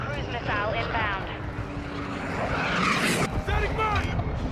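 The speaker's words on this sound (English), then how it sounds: "Friendly VTOL inbound." A friendly VTOL aircraft approaches in Call of Duty MW2 Ground War, a rising engine roar swelling over battlefield noise and gunfire, with a voice speaking briefly over it.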